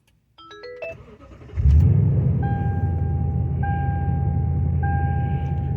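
A lifted Toyota Tundra pickup on 37-inch tires cranks briefly and fires up, then settles into a steady, loud low idle close by, with a chime repeating over the rumble and no talking.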